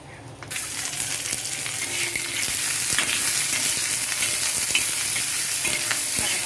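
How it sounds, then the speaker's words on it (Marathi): Whole green chillies fry in a little oil on a hot tawa for a dried bombil thecha, giving a loud, close, continuous sizzle with scattered crackles and light stirring clinks, and no voices. "आता ह्या साईडला मी तवा तापलेला छान त्याच्यामध्ये मिरच्या टाकून घेतलेल्या आहेत आता याच्यामध्ये आपल्याला थोडंसं तेल टाकून घ्यायचं"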